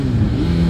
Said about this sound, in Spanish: la primera prueba de este segundo escape. A ver cómo se oye y a ver cómo se comporta.